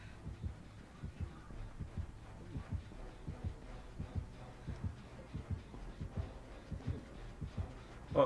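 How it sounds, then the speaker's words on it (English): Warning heartbeat from the video game Dead by Daylight: fast, steady, muffled low thumps pulsing on and on at a quiet level, with no talking. "I hear heartbeats."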